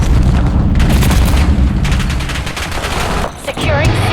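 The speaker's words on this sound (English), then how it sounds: "Frag going out!" Dense gunfire and booming explosions from a frag grenade in a Black Ops 7 multiplayer match, loud and continuous rapid shots with heavy low rumble, a brief lull, then more firing.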